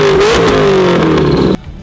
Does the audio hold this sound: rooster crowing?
no